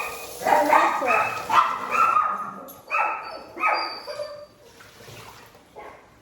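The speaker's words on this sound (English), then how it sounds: "Sorry about my dogs." Several house dogs bark indoors in a kitchen, loud close yaps in bursts that trail off into fainter yips and whimpers, with a brief spoken phrase among them.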